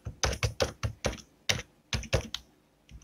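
Code being typed on a computer keyboard: about a dozen crisp, close key clicks in uneven bursts, loud and isolated against a quiet background.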